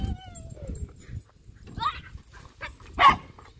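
Dogs bark a few times at a lakeside park playground during a fireworks evening, brief yelps rising at mid-distance amid quiet ambient noise, with a louder bark near the end.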